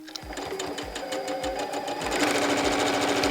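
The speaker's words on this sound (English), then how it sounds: "you are going to want to sew on either side of that line at a 1/4 inch" A sewing machine runs steadily while stitching a quarter-inch seam along a line on a printed heart quilt block, its rapid needle rhythm close and even, briefly picking up speed and loudness partway through.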